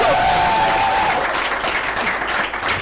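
A talk-show studio audience breaks into sustained applause for an arriving guest, dense close clapping that opens with a brief whistle-like tone and holds steady before tapering slightly at the end.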